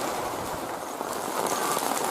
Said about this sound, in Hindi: जोरदार बारिश हुआ था हमारे गांव में।